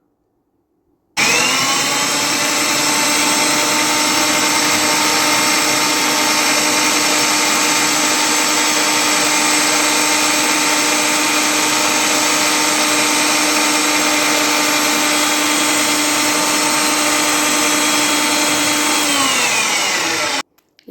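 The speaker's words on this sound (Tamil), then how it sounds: "இதுக்கப்புறமா அதை மூடி போட்டு நல்லா மேஷ் பண்ணி எடுத்துக்கலாம்." A mixer grinder with its lid closed mashes a potato masala filling for aloo paratha. It runs as one loud, steady, high whine for nearly twenty seconds, then cuts off abruptly.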